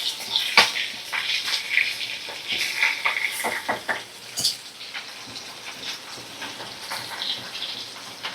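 Gurjali fish pieces frying in oil in a pan, a steady close sizzle with irregular scraping and stirring clicks throughout, no voices.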